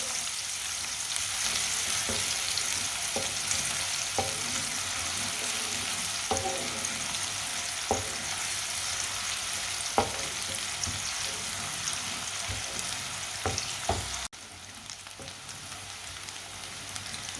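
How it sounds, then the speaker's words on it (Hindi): Finely chopped onion browning in a pan, a steady close sizzle with repeated soft stirring knocks every second or so, the frying dropping slightly quieter near the end. "प्याज को हल्का सा ब्राउन कर लेंगे"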